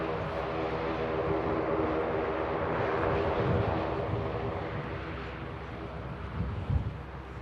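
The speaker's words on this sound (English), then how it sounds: "That Aer Lingus ATR heading over to Terminal 3 at Manchester" Aer Lingus ATR turboprop taxiing toward Terminal 3 at Manchester Airport, a broad, steady engine roar with droning tones heard from a distance, mixed with wind buffeting the microphone and no talk.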